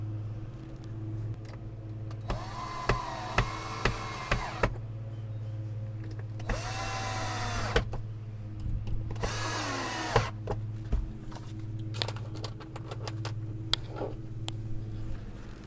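Power drill driving screws into the bottom of a VEVOR outdoor storage box for gardening supplies, three loud whirring bursts with pauses between them, plus scattered clicks and handling knocks.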